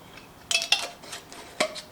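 Pots and pans clatter while peeled potatoes are rinsed, salted and set in water to boil; several sharp metallic clinks and knocks come in quick bursts at close range, with quiet gaps between them.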